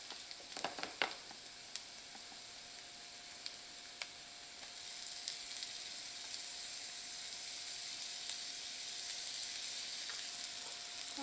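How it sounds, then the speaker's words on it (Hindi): Ginger garlic paste frying with golden brown onions for dhaba-style bhindi masala: a steady, soft sizzle fills the pan after a few quick clatters of a spoon stirring at the start, with no talking. "प्याज में अपना हल्का गोल्डन ब्राउन हो गया है, हम आप ऐड करांगे अदरक ते लसन की पेस्ट।"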